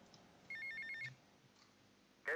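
A phone ringing in the video game GTA Vice City, a short electronic ringtone burst of repeating beeps, clear and isolated against quiet game ambience, followed by a brief sharp chirp.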